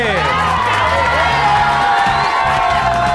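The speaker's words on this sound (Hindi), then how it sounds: "हमारा जो विनर है तालियां बजाइए" A school audience at Oxford English Public School cheers and shouts for the winning class team, with loud, excited children's voices and crowd noise that stay dense and unbroken throughout.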